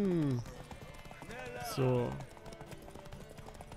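Horse hooves clip-clop in a steady rhythm through The Witcher 3: Wild Hunt, running under game music and a voice talking, with the footfalls moderately loud and continuous.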